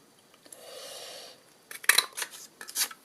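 A handheld paper punch snaps through shimmer cardstock while making laser-cut paper cards: a soft rustle of paper early on, then one sharp, close click, followed by a few shuffling scrapes and taps.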